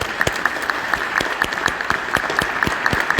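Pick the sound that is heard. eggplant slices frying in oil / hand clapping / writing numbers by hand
hand clapping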